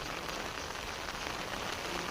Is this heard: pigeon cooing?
no